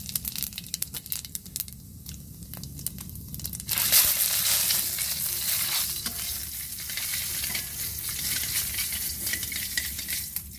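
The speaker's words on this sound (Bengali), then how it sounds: "তেলে কয়টা জিরা দিয়ে নিচ্ছি।" Cumin seeds dropped into hot oil in a village kitchen, frying for bitter gourd and greens curry: a loud sizzle and crackle bursts in partway through and keeps hissing steadily, with faint stirring scrapes before it.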